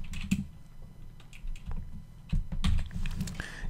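Close computer keyboard typing: a steady patter of quick, soft keystrokes in an uneven rhythm, with no voice.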